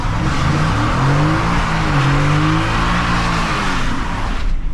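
A Ford F-150 XLT pickup with a 10-speed automatic pulls away hard, its engine roaring loud and steady with a rising rumble and a faint tire hiss throughout.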